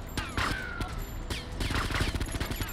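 Close, sharp shots and rattling bursts of gunfire in the game GTA Vice City, remastered with ray-traced graphics, crack repeatedly over a busy game soundscape.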